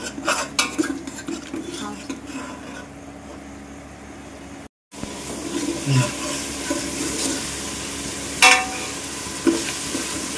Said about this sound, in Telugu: ఇవంతా బాగా వేగాలి.